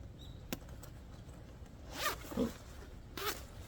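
Zipper on a British PCS thermal jacket being fastened: a few short rasping pulls, close and fairly quiet, with a tick between them, alone without talk.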